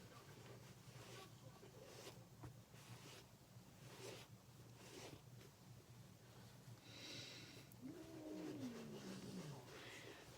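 Cats yowl at each other with a drawn-out, rising and falling low moan late in the span, faint and distant beneath a hissing background with soft scattered thumps.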